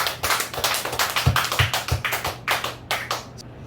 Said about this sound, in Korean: 하나님 앞에 영광의 박수를 드립니다